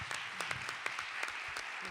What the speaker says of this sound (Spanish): nunca había pensado que aplaudieran después de cada intervención.